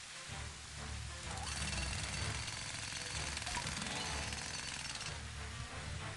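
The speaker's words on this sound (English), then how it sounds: "I don't think the jackhammer will fix this. It'll just make the holes bigger." Jackhammer in the Club Penguin Island video game hammers steadily and loudly for several seconds, a dense continuous rattle with no talk over it.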